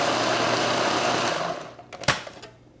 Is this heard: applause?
no